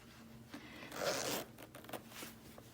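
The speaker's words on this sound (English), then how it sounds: "The zippers are all YKK zipper." A YKK backpack zipper pulled open close up, a short raspy zip lasting about a second, followed by faint handling rustles.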